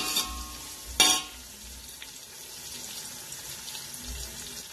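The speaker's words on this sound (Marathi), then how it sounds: "कढीपत्ता घातलेला आहे मी. आता हा चांगला भाजायचा." Curry leaves and onion fry in a pan for idli sambar, giving a steady close hiss with a sharp utensil clink near the start.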